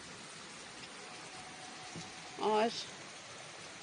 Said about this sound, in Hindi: और कल से ज़्यादा बारिश है और आज भी ज़्यादा ही बारिश है।